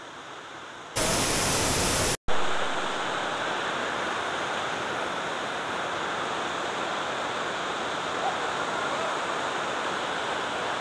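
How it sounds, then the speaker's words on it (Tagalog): Pinlac Falls in Infanta, Quezon, with a strong rushing current, roars as a loud, steady broadband wash of falling water, close and unbroken apart from a brief jolt near the start. "Lakas ng agos."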